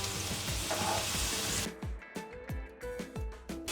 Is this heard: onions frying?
yes